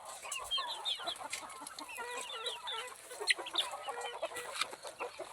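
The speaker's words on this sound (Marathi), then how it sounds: "इथे एक कोंबडी आपण आहे ती सुद्धा इथे अंड्यावर बसलेली आहे" Country hens cluck in a small enclosed coop, where one hen sits brooding on her eggs; a steady run of soft, close clucks and short calls continues throughout with no talking.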